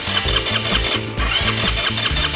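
A fuel-injected scooter engine turns over on a jump-start from a car battery, a rapid rhythmic cranking chug with a whirring starter motor, close and steady throughout.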